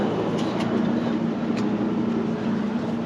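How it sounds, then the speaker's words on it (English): A train rolls past with a continuous low rumble and a droning hum, a few faint clanks rising above the steady noise. "Oh, look, another train."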